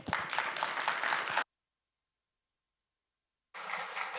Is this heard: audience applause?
yes